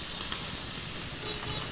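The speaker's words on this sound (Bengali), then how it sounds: "একটু কড়াইতে আমি মাছগুলো ভেজে নিচ্ছি।" Small bata fish fry in a wok with a steady, close sizzling hiss that holds at an even level throughout, with no voices.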